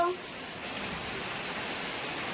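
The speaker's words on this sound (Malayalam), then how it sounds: "അവിടെ മഴ പെയ്യുന്നുണ്ട്" Steady rain hisses continuously at moderate volume, a dense even patter with no talk over it.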